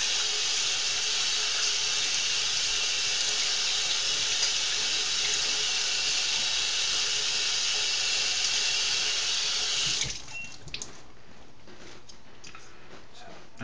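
Eggs rinsed under a running kitchen tap, a steady loud rush of water for about ten seconds that stops abruptly, leaving faint room noise.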